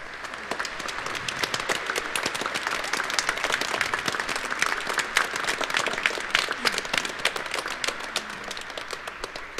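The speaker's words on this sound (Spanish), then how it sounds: "Vamos a recibirlos con un muy cariñoso aplauso" A congregation at a Catholic Mass applauds warmly in dense, sustained clapping that fills the room evenly for several seconds, close and lively without voices.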